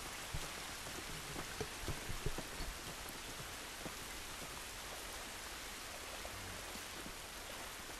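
Steady rain falls in The Last of Us Remastered video game, a dense even hiss with scattered patters of drops on surfaces, continuous and fairly soft without speech.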